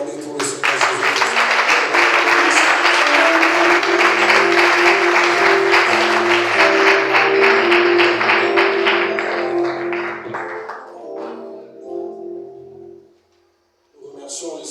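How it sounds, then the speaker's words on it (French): A church congregation at a French-language Sunday service claps loudly and steadily for about ten seconds over sustained keyboard chords, then the applause tapers off and the music lingers. "Est-ce qu'on peut acclamer pour le Seigneur Jésus?"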